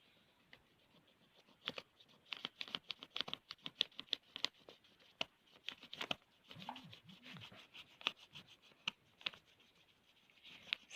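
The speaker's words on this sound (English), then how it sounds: "Then by keeping the pencil, see slightly you can scratch like this." Graphite pencil scratching lightly over paper laid on a coin to rub up its relief, a dense run of fine, quick scrapes and taps with no talk.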